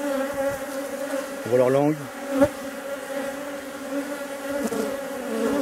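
Honey bees buzz over the frames of an open hive, a close, continuous droning hum with a rising and falling swarm texture, while a person talks briefly over it.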